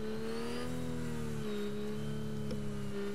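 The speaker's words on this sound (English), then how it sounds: "I hear a car around me, bro." A video game car engine hums and revs at a steady mid pitch throughout, moderately loud and close, with a brief knock partway through.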